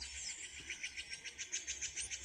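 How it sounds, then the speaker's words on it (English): A blue jay calls in a backyard, a faint, distant run of repeated rhythmic notes over steady outdoor background hiss, with no one talking. "See, that's a blue jay."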